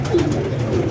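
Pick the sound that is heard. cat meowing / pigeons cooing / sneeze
pigeons cooing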